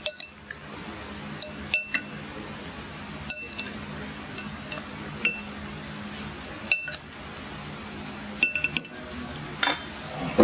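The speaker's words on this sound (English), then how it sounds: "We're going to just toss that around the bowl with our strawberries." Strawberries tossed in a bowl with sugar, cornstarch, water and lemon juice for a rustic tart, sounding as soft scattered clinks and knocks against the bowl amid a low kitchen hum, no voices.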